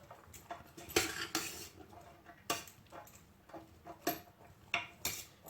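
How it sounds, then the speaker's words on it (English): Curry vegetable fried rice with cilantro and basil is stirred in a pan, a utensil scraping and clanking against the metal in repeated close bursts with quiet gaps between. "We want to stir again."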